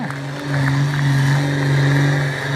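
A tractor engine at a stunt show roars and revs loudly close by, a sustained throbbing drone that swells and holds steady over a couple of seconds.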